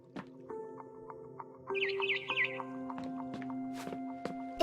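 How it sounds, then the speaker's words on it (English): A barn swallow chirps in a retro video game, a quick run of high warbling tweets partway through. Sustained electronic tones sound underneath, with scattered soft clicks around it. "Then I heard chirping outside my window."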